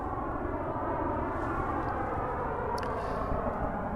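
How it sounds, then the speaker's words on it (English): A jet airplane passing high overhead, a steady, broad, low engine roar filling the whole clip at an even, moderate level with no sharp changes. "Oh, that's a jet airplane."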